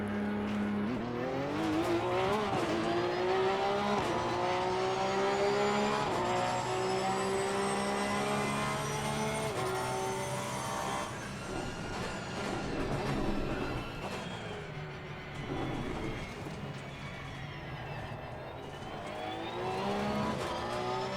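Several race cars roar through a multiplayer race in the game Assetto Corsa Competizione, with loud, continuous engine drone and rising and falling revs as gears shift, close and unbroken for the whole stretch.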